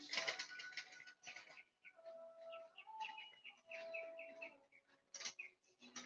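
Birds chirp at Gumasa Beach in Sarangani Province, Philippines. Their short, bright calls and tweets come repeatedly in quick bursts, fairly faint and outdoors.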